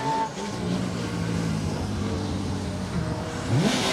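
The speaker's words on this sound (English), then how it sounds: "Martin Farrer in the Subaru" A Subaru rally car on a closed forest stage during the Colin Ellmore Memorial Rally, its engine droning steadily at close range, then swelling louder toward the end as it accelerates past.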